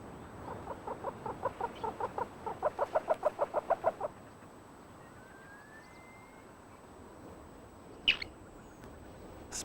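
Ular, a Himalayan-type snowcock of the high mountain peaks, gives a rhythmic run of loud, evenly spaced calls that speed up and build, then stop, followed by quiet open air and one brief sharp note later.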